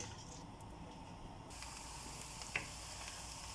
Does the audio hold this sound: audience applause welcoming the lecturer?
no